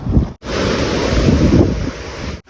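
Powerful, continuous roar of the Sabarmati River rushing through eight fully opened dam gates, loud and steady, with a brief dip at the start and no voices.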